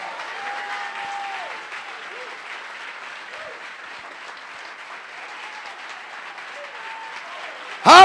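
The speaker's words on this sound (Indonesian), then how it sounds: "Sekali lagi kasih tepuk tangan untuk Tuhan." A church congregation applauds together in a steady, moderately distant wash of clapping that lasts the whole stretch, with faint voices over it and a louder burst at the very end.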